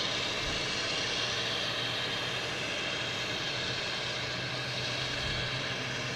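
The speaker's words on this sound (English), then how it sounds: "We have a JetBlue heading to Savannah in A220," A JetBlue Airbus A220 airliner bound for Savannah at Boston Logan airport gives off a continuous broad jet-engine roar, loud and steady, with no voices over it.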